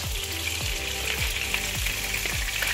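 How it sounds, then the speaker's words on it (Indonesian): Shrimp fry in hot oil in a pan with a loud, continuous close sizzle, punctuated by regular stirring scrapes about every half second. "Masukkan udang dulu ya. Nanti kacau dia. Bagi dia masak sekejap ya."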